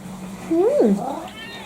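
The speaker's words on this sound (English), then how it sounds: "My cat, Mr. Wings." A house cat lets out a single clear meow that rises and falls in pitch, close and fairly loud against a quiet indoor background.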